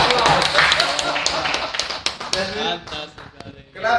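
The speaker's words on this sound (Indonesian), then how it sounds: "Tepuk tangan." Quick hand claps patter in a short burst and then thin out into scattered claps, while a voice and some laughter come through underneath.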